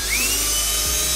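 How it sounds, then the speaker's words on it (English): A 1/4 inch drill bit whines steadily through a speaker mounting hole in a Tahoe's panel, a close, continuous high-pitched drilling tone that holds for the whole brief moment with no voices. "You need to drill three holes."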